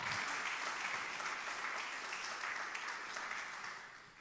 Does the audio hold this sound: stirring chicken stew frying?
no